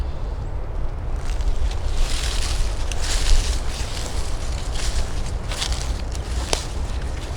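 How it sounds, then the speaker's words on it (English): Wind buffets the microphone in steady low rumbling gusts outdoors in Arkansas woods, with a few brief brighter rustles and thumps mixed in. "It's still a little bit windy"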